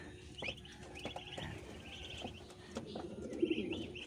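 Many duckling chicks kept as poultry peep and cheep in a steady overlapping chatter, with soft, high calls close by and a faint low hum underneath.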